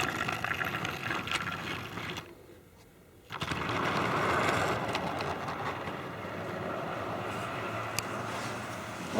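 A Tri-ang Princess Royal model locomotive runs along its track with a steady mechanical whirr and rattle, continuous and fairly close, broken by a brief drop in noise partway through before the running sound resumes.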